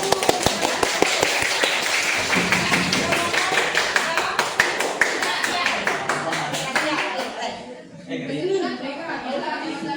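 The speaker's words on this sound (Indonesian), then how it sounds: "Oke, tepuk tangan dulu." A classroom group claps together in a quick, even rhythm for several seconds, the applause fading out near the end with faint voices.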